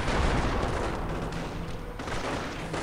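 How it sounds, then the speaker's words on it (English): Sniper rifles fire in a Company of Heroes battle, a dense, fairly quiet wash of gunfire, booms and explosions rolling on throughout. "Double snipers opening up."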